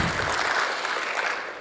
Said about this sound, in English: I wanted to just give one more round of applause for the candidates that showed up today